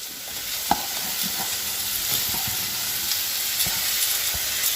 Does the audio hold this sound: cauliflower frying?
yes